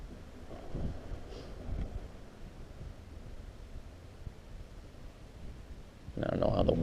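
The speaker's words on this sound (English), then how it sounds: "I don't know how the wind is affecting it either. A little bit of wind out here, a little bit breezy." Wind buffets a camera microphone outdoors beside a fishing creek, low muffled rumbles that come in gusts, faint at first and louder at the end.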